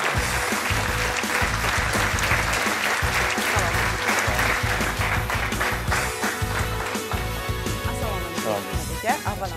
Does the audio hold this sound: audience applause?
yes